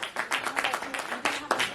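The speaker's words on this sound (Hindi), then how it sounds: "मनीष पटेल जी के लिए एक बार जोरदार तालियां बजाइए" An audience at an all-India poetry gathering breaks into quick, lively clapping, a dense patter of many hands with uneven bursts across the short stretch.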